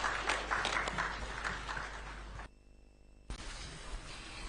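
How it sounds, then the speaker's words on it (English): Broad, crackling applause from a crowd at the South Africa vs Nigeria World Cup 2026 qualifier, briefly cutting out before resuming at similar strength. "Shall we give him a round of applause, please?"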